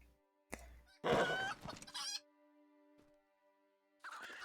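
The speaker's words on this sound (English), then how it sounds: "Chicken on the roof." Chickens in a multiplayer video game race around a rooftop vantage point, giving bursts of clucking and squawking calls that come in two clusters with a quiet stretch between them, fairly faint overall, with a steady low game hum underneath.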